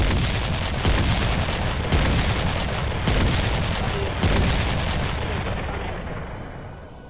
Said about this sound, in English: 5 cannon shots can be heard in the distance.